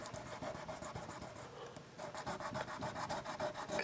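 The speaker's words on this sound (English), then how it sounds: "So this sandpaper sort of thing, it always has worked really good for me." Sandpaper rubs back and forth on a 1985 Fender HR Stratocaster guitar during a restring, a quiet close scratchy rasping in steady strokes that speed into a quicker rhythm.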